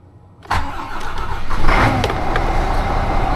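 A Scania truck engine cranks and fires after a brief silence, then settles into a steady, fairly loud diesel run that swells slightly as it keeps going, with no talking.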